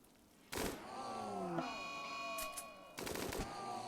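Two loud bursts of rapid gunfire from the video game Rimworld, one early and one near the end, separated by a drawn-out groan and tonal game sounds.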